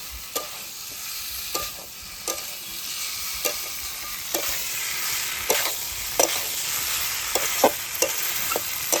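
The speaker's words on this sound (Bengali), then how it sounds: "আলু আর পটলগুলো বেশ ভালোভাবে মশলা এই 3টে উপকরণ বেশ ভালোভাবে কষাতে হবে।" Potatoes and pointed gourd being stir-fried with spices, a steady sizzle in the pan broken by regular scraping strokes of the spatula, close and alone.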